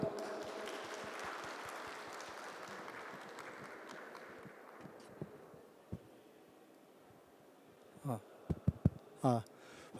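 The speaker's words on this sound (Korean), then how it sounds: "하민기 수석연구원님을 큰 박수로 맞아주십시오." A lecture-hall audience gives a big round of applause to welcome a senior researcher at a 2023 construction new-technology exhibition training session. The dense clapping is strongest at first, thins out over several seconds, and a voice cuts in near the end.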